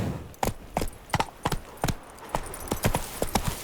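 A horse galloping in The Witcher 3 video game lands its hooves in a quick, uneven rhythm of a dozen or so sharp clops, crisp and close.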